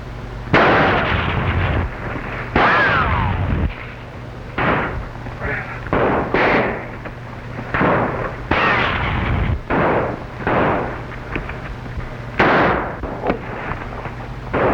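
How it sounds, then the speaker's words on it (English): Gunfire from a 1935 film shootout, heard as a series of loud, sharp shots and blasts that come in irregular bursts across the whole stretch, with little else between them. "When I give the signal, open fire."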